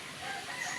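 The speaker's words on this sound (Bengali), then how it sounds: "বাড়ির মুরগিটা বলে" A farmyard chicken gives a short, faint cluck over steady outdoor background noise at a zoo, with no talking during the brief moment.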